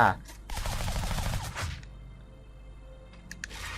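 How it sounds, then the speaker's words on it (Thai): Bursts of rapid gunfire in the video game Shank, loud and dense for about a second and a half, then fading into quieter game ambience with faint blips. "โบโบมันได้ยินเสียงปืนนี่วะ"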